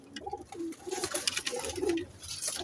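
Teddy pigeons in a breeder's loft coo in soft, repeated low throaty phrases, several birds overlapping nearby with faint rustling behind them.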